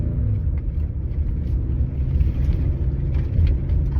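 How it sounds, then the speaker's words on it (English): A 2025 Ford Explorer pushes through thick off-pavement mud at around 15 mph under harder throttle, giving a steady, loud low rumble of engine and drivetrain with no voices. "we're gonna give it a little more gas. I'm gonna be a little more aggressive this time in this thick mud"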